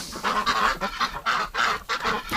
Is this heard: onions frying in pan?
no